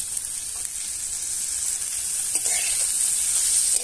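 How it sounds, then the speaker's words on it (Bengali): Onion, ginger and garlic paste fries in hot oil alongside small potato pieces, making a steady, fairly loud hiss of sizzling with occasional light stirs. "পেঁয়াজ আদা রসুন সবকিছু ভাজা হবে হালকা হালকা"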